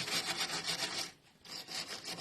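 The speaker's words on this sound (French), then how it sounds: "On commence par mettre des petits coups de brosse métallique" A wire brush scrubs back and forth over rusty bolts on a Land Rover Defender's rear suspension, a close, raspy scratching in short rhythmic strokes with a brief pause midway.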